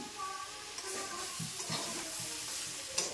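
Peas, broccoli, capsicum, beans and tomato tumble into a pan for a Bengali-style chicken stew, giving a soft, steady sizzle with light stirring and scraping knocks close by.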